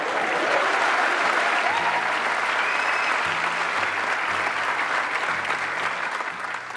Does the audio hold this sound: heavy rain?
no